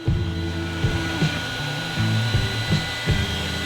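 3D printer running a first pass, loud steady motor whirring with stepped tonal changes and soft periodic clunks as the print head moves back and forth, with no talking.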